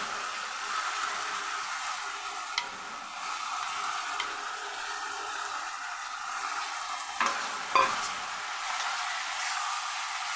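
Kuwash frying in a pan with potato, tomato and spices for a vegetarian ghonto, giving a steady, moderate sizzle with a few faint clicks of stirring near the end.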